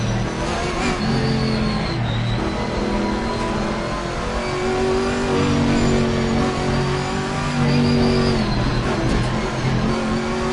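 A Chevrolet Camaro race car in Assetto Corsa Competizione roars loudly and continuously, its engine revving up and down through gear changes on track.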